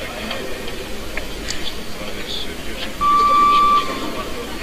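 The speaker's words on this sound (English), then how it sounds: "30-second buzzer in the background" A weightlifting championship buzzer, the 30-second warning, sounds as one steady beep lasting under a second, heard in the background under ongoing arena commentary and crowd noise.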